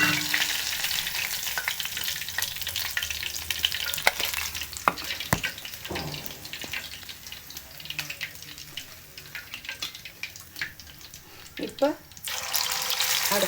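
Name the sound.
fish frying in oil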